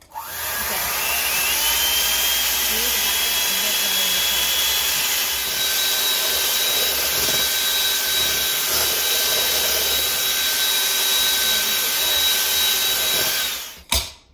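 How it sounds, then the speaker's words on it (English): Egg whites being beaten with an electric mixer in a home kitchen while baking, a loud continuous high whine running steadily for about thirteen seconds before cutting off abruptly. "So now we're going to beat the egg whites until they are less frothy."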